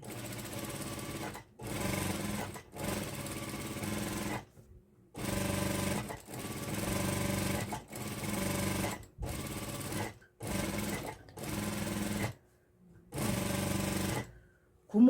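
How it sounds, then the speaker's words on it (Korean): Sewing machine stitching a line beside an elastic band 5mm apart while making a flower sun bonnet, running in repeated loud bursts of steady whirring, broken by short silent pauses between runs. "노루발 여기 5mm 간격으로 쭉 그냥 박음질 해주세요"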